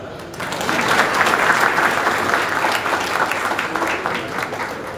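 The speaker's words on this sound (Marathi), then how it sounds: "वाजवा टाळ्या." An audience applauding at a public poetry event, dense sustained clapping from many hands that swells and holds steady for several seconds, fairly close and loud.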